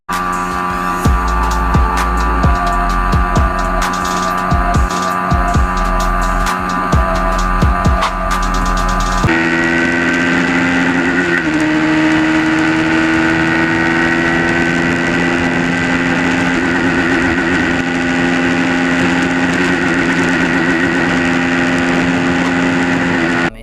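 A Yamaha R15M motorcycle engine runs hard at top speed, first a loud, choppy burst of engine noise, then a steady high-pitched drone that stays constant and close throughout.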